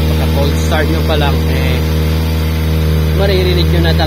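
Kawasaki ZX-25R engine idling steadily and loudly with a worn cam chain tensioner rattling inside, a continuous buzzing drone under a man's speech.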